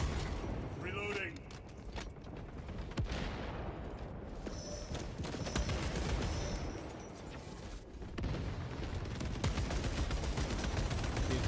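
Rapid video game gunfire rattles through a busy, noisy mix of repeated shots, with brief mechanical clicks and lulls between bursts.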